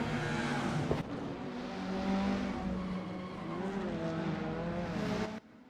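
A 1990s BTCC touring car in the Assetto Corsa racing game spins out at BA Circuit, its tires squealing and skidding over a loud engine drone before the sound cuts off abruptly, with no talk.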